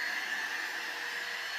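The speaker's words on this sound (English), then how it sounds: "I was ready with my floor vacuum, and I started vacuuming the stairs." A floor vacuum cleaner running on a staircase gives a steady, loud whine with a strong high tone and airy hiss, continuous and unbroken with no talking.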